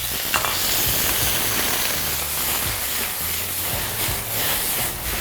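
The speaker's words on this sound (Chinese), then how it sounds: "把锅弄点油润一下姜蒜片和葱段给它爆香，接着要下入这个虾仁" Shrimp stir-fried in a hot oiled wok with ginger slices, garlic and scallion segments, giving a loud, steady sizzle with irregular scraping stir strokes throughout, close and without any voices.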